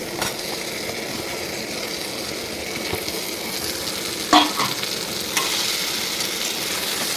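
Chopped potatoes go into spices frying in oil, giving a steady close sizzle with a few brief clatters and scrapes as they land and get moved around.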